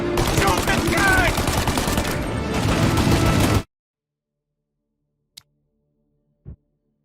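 Sustained, dense automatic gunfire in a Mafia: Definitive Edition shootout rattles loudly for about three and a half seconds, then cuts to silence broken by two brief, faint clicks.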